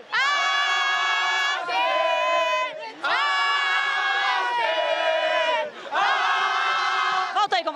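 Aster Itaquá supporters chant in unison at the José Liberati stadium during a Copinha youth football match, a loud, sustained crowd chorus in repeated phrases with brief pauses between lines.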